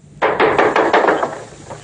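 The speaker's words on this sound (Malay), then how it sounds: "Alamak. Siapa ketuk tu?" About five sharp knocks on a door in a quick, even series, close and loud, then quiet, with no talk.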